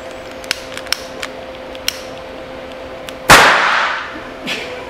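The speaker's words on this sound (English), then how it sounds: "I'm going to set off an explosion in my hand that'll demonstrate what this system does." A small gas explosion set off in a hand from soap bubbles, heard as one sharp loud pop with a brief decaying rush, preceded by several faint clicks against a quiet background hum.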